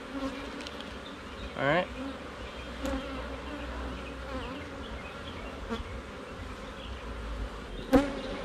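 Honeybees buzzing around an open hive, a steady close hum with occasional individual bees flying past the microphone, and a brief spoken remark.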